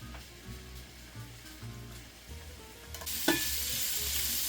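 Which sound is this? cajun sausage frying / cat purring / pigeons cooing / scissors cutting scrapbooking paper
cajun sausage frying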